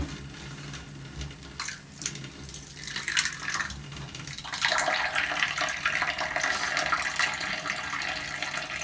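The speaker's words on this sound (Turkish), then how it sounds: "güzel güzel sabunla durla anneciğim" Soapy kitchen dishes and a glass are rinsed under a running tap, with light clinks and handling at first, then a steady stream of water splashing close by.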